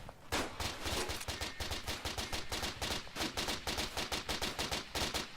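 Rapid automatic bursts from an MP-18 submachine gun in the video game Battlefield 1, a dense, steady rattle of shots filling the whole stretch, loud and continuous with no talk.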